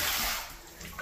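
Water runs steadily from a clogged shower in a house, a dense hiss of spray and splashing with no voices.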